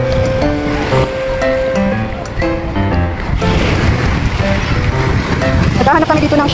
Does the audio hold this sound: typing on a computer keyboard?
no